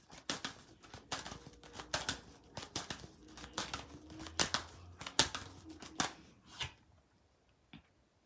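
Quick papery clicks and shuffling snaps of cards being handled and drawn, in an irregular patter that fades out at the end.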